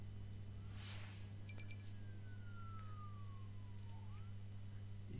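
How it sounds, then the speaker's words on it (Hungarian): A fire engine siren from the SimCity video game wails once in a single falling sweep at moderate distance, over a steady low game hum and a faint background tone. "szomszédvárosból jött a tűzoltó."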